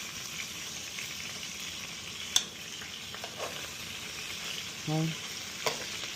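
Meat sizzles and fries steadily in a pan for a homemade sauce, with a few clinks and stirring knocks over the constant crackle; a voice speaks briefly.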